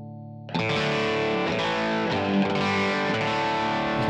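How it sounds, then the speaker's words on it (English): An overdriven electric guitar played through a Kemper amp, its definition control being turned up, rings out loud and sustained after a half-second of silence, with steady chords and no voices. "So listen carefully as I turn up the definition control."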